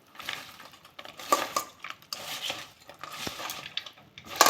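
Shrimp being mixed by hand with turmeric and salt in a bowl, giving soft, close, irregular wet rubs and squelches, with some light clinks against the dish in uneven bursts and no talking.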